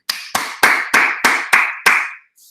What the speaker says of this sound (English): This is always a bit awkward to clap on an empty room